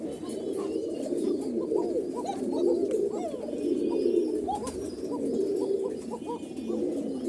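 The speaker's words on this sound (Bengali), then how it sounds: "এই যে এই এক জোড়া কোকা ডাক শুনতে পাচ্ছেন" A few Koka pigeons coo up close in a loft, their low rolling calls repeating and overlapping continuously, with faint chirps from other birds in the background.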